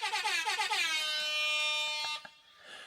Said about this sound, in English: I have the air horn sound effect already ready to go on my computer.